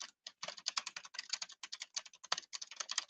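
Rapid, continuous typing on a computer keyboard, close and crisp, with dense irregular keystrokes and a few brief pauses, no voices.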